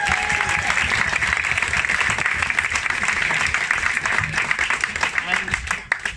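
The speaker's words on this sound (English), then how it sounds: "So instead, can we have a huge round of applause," Wedding guests applaud Tim and Jane in a dense, steady round of clapping that fills the room for several seconds, with crowd murmur mixed in.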